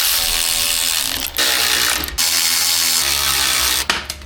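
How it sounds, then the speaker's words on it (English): A ratchet snugs up bolts on air bag straps under a squarebody K20 tow truck, making loud, continuous close-up clicking with brief pauses between strokes. "so we'll just snug them up again with the ratchet"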